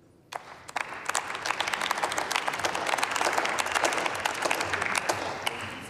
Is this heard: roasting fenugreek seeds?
no